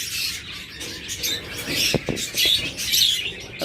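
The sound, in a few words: pet birds chirping in a cage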